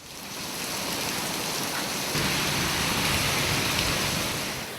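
Steady rain pours down across the Swat plains in Pakistan, a dense, continuous hiss that swells slightly partway through and carries on evenly with no voices.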